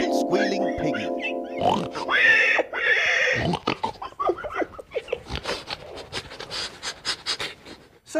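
A person vocally imitates a squealing pig, with piggy snorts, squeals and panting grunts mixed with snickering laughter, loud and close, amid bursts of talk.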